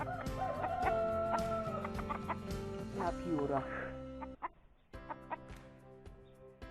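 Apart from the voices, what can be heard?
hens and rooster clucking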